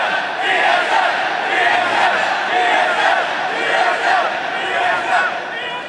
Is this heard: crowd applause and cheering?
yes